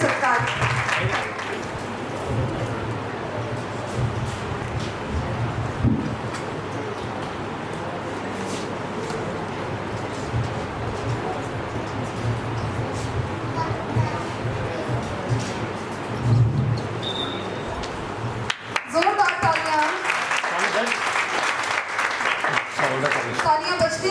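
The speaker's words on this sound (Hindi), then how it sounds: "तालियां बजती रहनी चाहिए।" Audience applause at a ceremony where the chief guest and his wife are honoured with shawl and cap, a sustained crowd clapping over a hum with a brief swell near the end.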